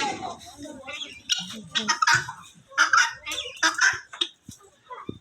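A turkey calls in short, repeated honking and gobbling bursts near a bird shed, among other fowl, with some voice-like sounds mixed in.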